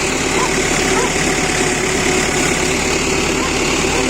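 A New Holland 7056 tractor idles close by with a steady, loud diesel rumble and vibration, unbroken from start to finish on an icy winter day.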